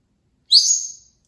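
A green-cheeked conure gives a single short, high-pitched whistle that rises and fades in under a second, clear and close against silence.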